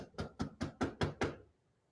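Six firm knocks on a door land in an even rhythm, close and distinct, each a sharp rap, followed by quiet.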